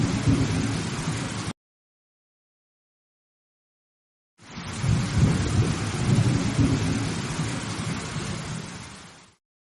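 Heavy rain with thunder in a cartoon roars as a steady wash of noise with a low rumble, cut off by a sudden silent gap before the downpour resumes and gradually fades.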